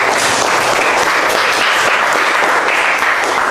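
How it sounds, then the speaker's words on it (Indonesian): In a classroom, students clap loudly for a student group, a dense, close burst of many hands that stays intense throughout. "Tepuk tangan buat kelompok 2"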